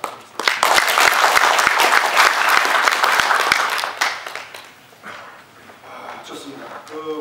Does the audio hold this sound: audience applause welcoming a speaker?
yes